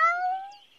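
A cat meows once, a clear tonal call that holds steady and fades over under a second, close and fairly loud with no talk over it.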